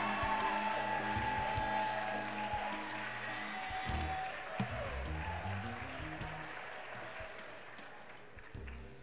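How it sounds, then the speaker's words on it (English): Sustained audience applause at the 2017 Ms. Senior DC pageant, a dense steady wash of clapping over a faint tonal background, holding level for several seconds before easing slightly near the end. "Let's give her a round of applause."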